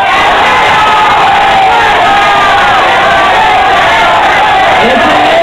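A loud, steady crowd roar of cheering, whoops and children's shouts at a Halloween costume contest in Duitama, Boyacá, continuing without a break for several seconds, with occasional voices rising through the din.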